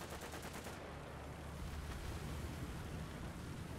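Machine gun fire in War Thunder, a rapid rattling burst up front that gives way to continuous loud rumbling battle noise, no voices.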